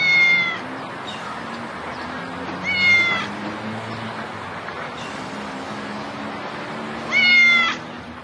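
A cat meows three times, drawn-out and plaintive, spaced a few seconds apart over steady low traffic rumble.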